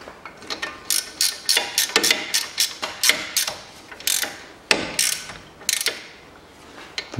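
Hand ratchet tightening a ball joint on the front suspension of a 2009 Chevrolet Aveo, rapid clicking pawl strokes in repeated bursts with short pauses, close-up and crisp, no speech.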